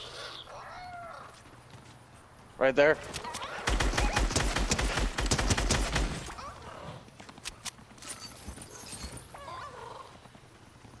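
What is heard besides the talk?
donkey hooves clip-clopping in a video game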